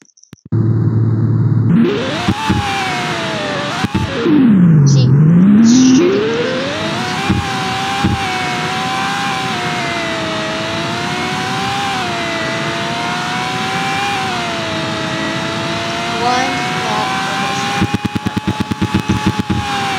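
A racing car engine in a video game revs loudly and continuously, pitch sweeping up and down as it accelerates and shifts, with a burst of rapid clicking near the end.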